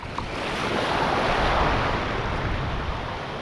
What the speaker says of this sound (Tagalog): Ulan talaga yan.